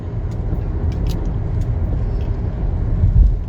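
A car's engine hums steadily under continuous road noise while driving, a dense low rumble that swells slightly toward the end, with faint scattered clicks above.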